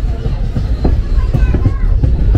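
The 18107 Rourkela Intercity Express rolls along between Koraput and Jagdalpur, its steady loud rumble and rhythmic wheel clatter filling the carriage, with faint passenger chatter mixed underneath.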